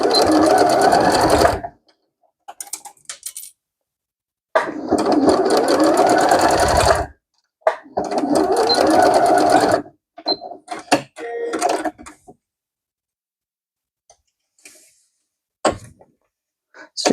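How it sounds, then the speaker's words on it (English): Home sewing machine stitching the lining of a fabric tote bag, running in several close bursts of steady whirring a few seconds each, separated by pauses with small handling clicks. "when you're sewing the lining, one of the sides, we're going to want to leave an opening"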